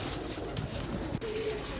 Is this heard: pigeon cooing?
yes